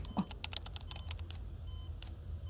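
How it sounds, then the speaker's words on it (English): Rapid, furious keyboard typing in a video game, a dense clatter of keystrokes pouring out continuously with no pauses, close and steady like rain. "The furious typing sounds almost like a sudden downpour."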